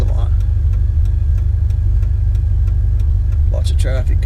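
A 1995 Ford Mustang GT with an upgraded exhaust idles with a loud, deep, pulsing burble close to the microphone, a continuous low throb with a voice briefly speaking near the end.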